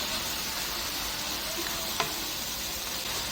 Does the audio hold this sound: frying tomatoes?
yes